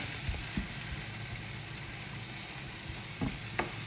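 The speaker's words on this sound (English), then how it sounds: "Give the onions another stir. Keep stirring." Onions frying in a pan hiss and crackle steadily while being stirred, with a few soft scraping strokes standing out near the start and end.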